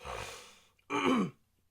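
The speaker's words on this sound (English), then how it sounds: "Sorry, just need to clear my throat a little bit" A person clears their throat in two short, raspy bursts separated by a brief pause, close by and with no talking.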